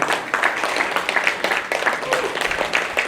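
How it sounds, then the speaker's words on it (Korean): Audience applause at a Korean futurology lecture concert welcoming a professor back to the stage, dense steady clapping lasting throughout with crowd murmur mixed in. "교수님 다시 뜨거운 박수로 모시도록 하겠습니다"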